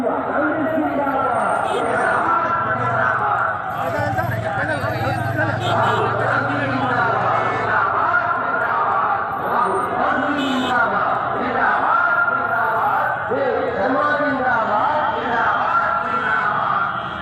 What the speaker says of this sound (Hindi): और यहाँ पर हजारों की भीड़ है